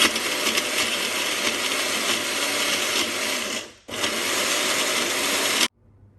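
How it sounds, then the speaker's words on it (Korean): A blender grinds chickpeas, olive oil, chickpea cooking water and ice into hummus, a loud steady whir running for several seconds, pausing briefly, then resuming before cutting off. "준비한 모든 재료를 다 같이 믹서에 넣어줍니다."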